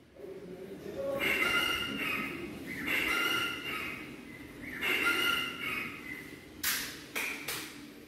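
A recorded jungle fowl call plays at a museum display in Dogadda range, Jim Corbett, Uttarakhand: three bright, reedy crowing phrases with gaps between them, then a couple of sharp clicks, all over a steady hiss.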